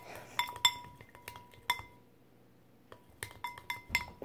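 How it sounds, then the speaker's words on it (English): A utensil stirs homemade slime in a bowl, giving scattered bright clinks and taps against the bowl in irregular bursts with quiet pauses between them. "Keep on stirring until it all gets mixed in."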